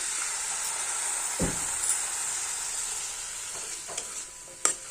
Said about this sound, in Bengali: অল্প জল দিয়ে দিচ্ছি, নাহলে মশলাগুলো পুড়ে যাবে।